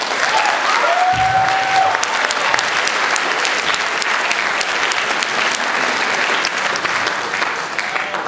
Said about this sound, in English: I think this calls for a big round of applause from the band